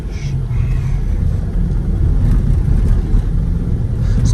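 A car crosses the Brooklyn Bridge in New York, its engine and tyres making a loud, steady, continuous road rumble from inside the vehicle.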